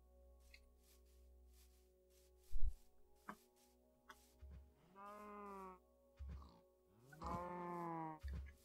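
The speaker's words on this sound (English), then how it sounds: "Shut up, cows." Cows moo in the video game Minecraft, with two drawn-out, harmonically rich lows near each other and some brief thuds and game noises between them. No one talks.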